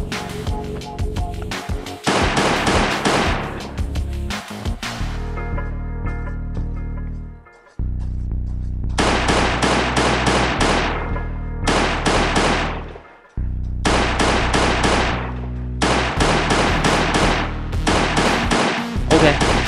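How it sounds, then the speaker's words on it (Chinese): Pistol shots ring out in the survival video game Last Day on Earth: Survival, several loud, sharp bursts of rapid shots separated by short quiet gaps, with some commentary talk now and then. "巨肥的部分呢，我就直接用手枪打了，因为不然太危险了"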